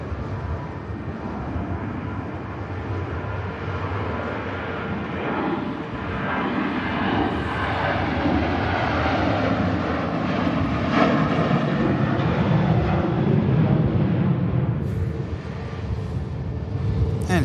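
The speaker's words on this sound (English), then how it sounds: "Just quickly catch this Ryanair departing" A Ryanair airliner departs Manchester Airport, its jet engine roar building into a loud, broad rush that swells and holds steady for the whole stretch, with no talk over it.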